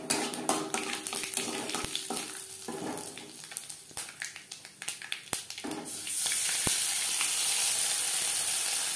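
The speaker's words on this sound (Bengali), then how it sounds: "লঙ্কা ভেজে নেওয়ার পর দিয়ে দেব ছোট চামচের হাফ চামচ জিরে" Cumin and mustard seeds crackling in hot oil after dried chillies are fried, with stirring and spoon scrapes against the pan, ending in a louder steady sizzle.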